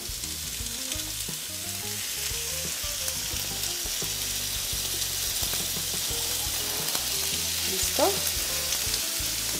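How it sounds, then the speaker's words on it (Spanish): Chicken sautés in olive oil with a constant sizzling hiss and occasional utensil clinks against the pan, while a brief spoken word comes near the end. "vamos a cocinar el pollo. Lo vamos a saltear, ¿verdad? Con un poco de aceite de oliva."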